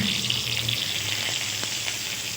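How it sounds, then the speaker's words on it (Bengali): Two bay leaves sizzle in hot oil in a wok: a steady, bright frying hiss, close and continuous, with a low hum fading out early and a few faint clinks. "আর দুটো তেজপাতা ফোড়ন দিলাম"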